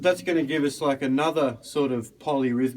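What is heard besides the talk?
No distinct noise like a dog, phone or traffic.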